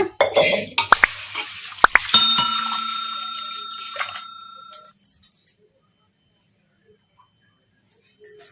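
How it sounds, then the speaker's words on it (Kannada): Black-eyed pea lentils washed with water in a metal vessel, heard as a few sharp clinks and clanks with brief swishing and ringing tones, fading into near silence before faint taps at the end. "ಇವನ್ನ ಒಂದ್ಸಲ ನೀರು ಹಾಕಿ ತೊಳೆದು ಬಿಡೋಣ"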